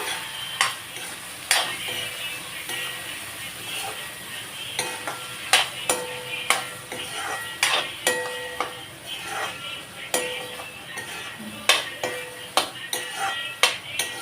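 Brinjal masala being sautéed in a pan, with a constant sizzle beneath repeated sharp clinks and scrapes of a spoon stirring against the metal at an irregular rhythm.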